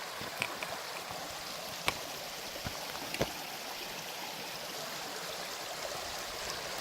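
Little Missouri River flowing, a steady broadband rush of moving water heard at a distance, with a few faint clicks and taps breaking through the continuous wash.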